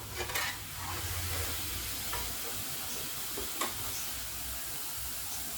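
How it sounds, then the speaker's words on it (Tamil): Soya chunk kola urundai balls fry in oil over medium heat, giving a soft, continuous bubbling sizzle with occasional faint pops and light clinks, fairly quiet and with no voices. "நம்ம ஒரு மிதமான ஹீட்லேயே வச்சு நம்ம ஃப்ரை பண்ணி எடுத்துக்குவோம்"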